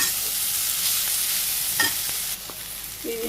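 Fish sizzles in hot oil in a pan, a loud, even hiss with a few utensil scrapes and taps as it is stirred; no voices.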